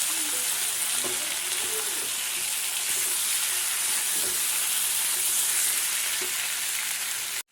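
Chicken fries in oil with garlic paste, giving a steady, close sizzle with a few soft stirring knocks throughout and no one speaking.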